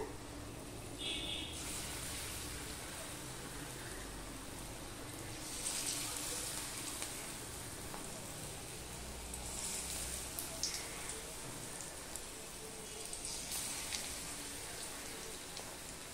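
Thin slices fry in very hot oil in a kadai, a steady, even crackling sizzle that runs on without a break and sounds close and fairly quiet.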